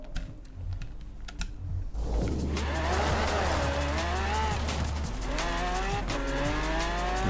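Lamborghini driving in Forza Horizon 4: a steady engine drone with rising and falling revs and brief tire squeals, opened by a stretch of computer keyboard typing, with no one talking.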